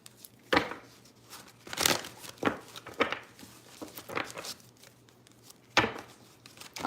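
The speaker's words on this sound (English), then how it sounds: "2 more shuffles and then we'll see here" A deck of tarot cards shuffled by hand, producing scattered soft riffles and slaps in short irregular bursts, close and quiet, with no talking.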